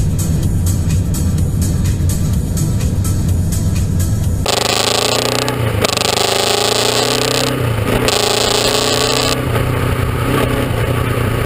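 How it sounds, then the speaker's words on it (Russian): A Turkish semi-truck's engine, left out in minus-one frost with weak batteries, cranks rhythmically for several seconds and then catches. It settles into a loud, close, steady running roar with shifting revs. "попросили зажечь фуру"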